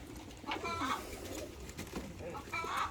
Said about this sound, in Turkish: arkadaşlar tek renk sanmayın bu kuşları. Şimdi kırmızı boğma türlerinden göstereceğim.